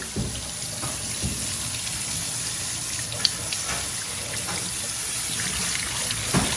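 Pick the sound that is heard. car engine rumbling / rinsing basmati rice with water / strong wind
rinsing basmati rice with water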